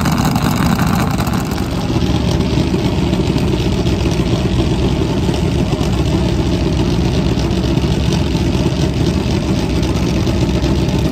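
Top Fuel nitro Harley drag bikes doing burnouts at final qualifying, a dense, unbroken engine roar holding loud and steady throughout with no pauses or talk.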